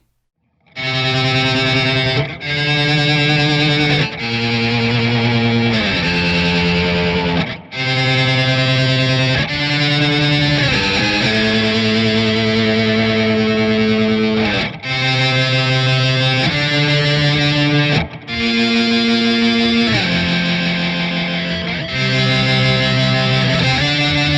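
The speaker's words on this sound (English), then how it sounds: "it uses yet another type of distortion, hard clipping" A hard-clipped, buzzy synth through a Source Audio Ultrawave pedal plays sustained chords that change every couple of seconds, loud and distorted throughout.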